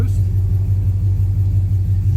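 A nitrous-equipped Ram R/T pickup truck idling at the line before a drag race against a Ford F-150 5.0, its engine giving a loud, close, steady low rumble throughout.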